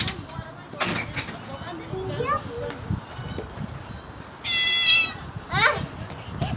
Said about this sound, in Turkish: Kedi. Pis pis pis pis pis. Kedicik.